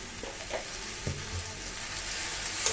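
Spices for a fish head curry fry with salt and turmeric in a pan, a faint, even sizzle broken by a few soft stirring scrapes.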